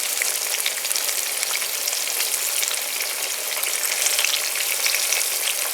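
Eggplant slices fry in hot oil with a steady, dense sizzle and crackle, close and even for the whole stretch, with no talking.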